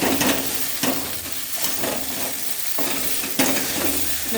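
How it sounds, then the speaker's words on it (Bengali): Jackfruit and potato pieces fry in spice masala in a pan, a steady close sizzle broken by several scraping stirs of a spoon, with no voices. "মশলাটা এঁচোড় আর আলুর গায়ে পুরো লেগে গেছে, ভাজা ভাজা হয়ে।"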